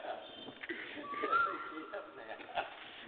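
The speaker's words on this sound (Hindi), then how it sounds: "ये जो कोयल की आवाज है" An Asian koel gives one brief, rising whistled note, faint and distant, while someone speaks over it.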